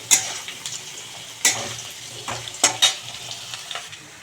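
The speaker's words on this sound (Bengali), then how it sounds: "তো দেখো বেশ আলুটা লাল লাল করে ভেজে নিচ্ছি।" Potatoes fry in a pan as a soft background sizzle broken by several sharp clinks and scrapes of a spatula stirring, close and uneven in rhythm.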